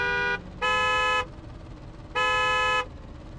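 Car horn in the BeamNG driving game, sounding in three separate blasts: a short one, then two longer honks with gaps between, loud over a low idling engine.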